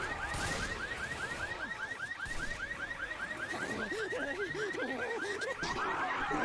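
A car alarm in Left 4 Dead blares a rapid, repeating chirping whoop that cycles steadily for several seconds, loud and continuous over a busy bed of game noise.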